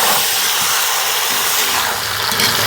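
Chicken with a little turmeric is sautéed in a pan, a loud, constant close-up sizzle with a dense, even hiss throughout.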